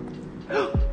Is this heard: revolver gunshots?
no